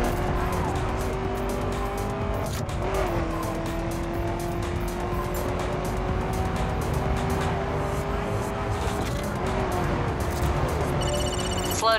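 A car engine in the video game The Crew drones continuously with a steady high-pitched whine, briefly dipping and rising in pitch as it shifts, loud and up close.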